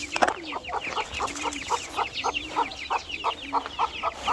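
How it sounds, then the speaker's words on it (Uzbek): Chickens in a backyard flock, including Madagascar and Japanese crossbreed fowl, cluck in a steady run of short calls close by, with no talk over them. "Mana cho'jalarim."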